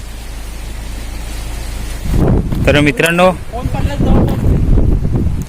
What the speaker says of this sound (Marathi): खूप भारी वाटत आहे सर्वीकडून वारा आहे